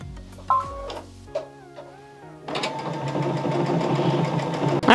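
A sewing machine stitches fabric, starting after a few scattered clicks and tones and then running as a steady, dense mechanical whir with a fast rhythm. It is close and fairly loud, with no talking.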